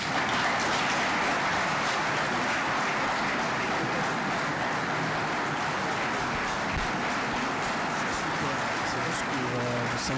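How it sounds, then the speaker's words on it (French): A hall crowd at the Kinshasa economic forum with President Emmanuel Macron bursts into dense, sustained applause and cheering, loud and unbroken for about ten seconds, with voices mixed in. "Vous sentez les acclamations dans la salle, c'est extraordinaire"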